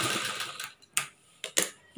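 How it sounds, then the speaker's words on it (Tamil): Sewing machine stitching the curved sleeve of a churidar top, running in short stop-start bursts with brief pauses between them, fairly quiet and close. "கை தைக்கும்போது கொஞ்சம் கொஞ்சமாக நிறுத்தி நிறுத்தி தைங்க"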